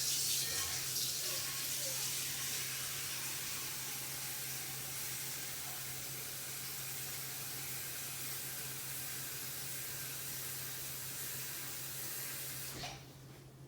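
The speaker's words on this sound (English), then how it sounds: "Put some cold water to cool it down so that we can chat" Cold water poured into a hot pot to cool it while making coffee caramel yogurt: a steady, continuous rushing stream lasting many seconds before stopping abruptly, close and even in level.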